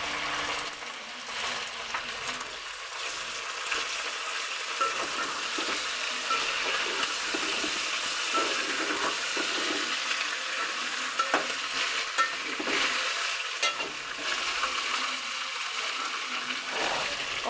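Chicken fries with ginger and garlic in a pan over lowered heat for a cauliflower and chicken dish, a long, steady close-up sizzle with occasional stirring scrapes and bubbling, no voices over it.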